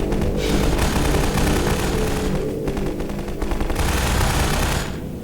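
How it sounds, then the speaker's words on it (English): Rapid gunfire from a soldier shooting down from a cliff top in the video game Half-Life 2, loud continuous bursts of shots rattling across the whole stretch with brief lulls between volleys. "The soldier firing down from the cliff top is simply there to draw the player's eye up"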